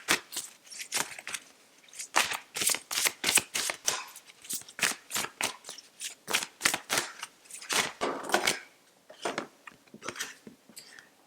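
Tarot reading cards being shuffled up close, a long run of rapid crisp riffling flutters and slaps in quick irregular bursts, loud and alone with no talk.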